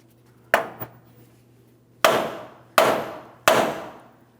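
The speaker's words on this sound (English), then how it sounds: "we'll continue on with a hammer. We're going to cause vibration directly on our knuckle." Four sharp hammer blows on a steel steering knuckle of a GMC Sierra 2500 HD ring out at uneven intervals, close and loud, each with a brief ringing decay, the first followed by a quick rebound tap.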